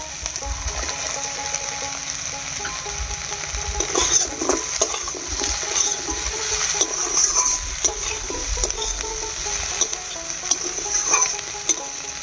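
Lentil fritters go into a pan of fried eggplant and onion, giving a continuous loud sizzle and crackle with scattered scraping and clinking from the utensil against the pan.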